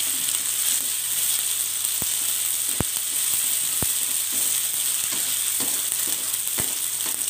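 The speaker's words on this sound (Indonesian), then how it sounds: "Kemudian kita masukkan udang. Kita oseng terus sampai udang berubah warna." Shrimp stir-fried in a pan give a loud, continuous close sizzle, punctuated by a few sharp clicks of a utensil against the pan, with no talking.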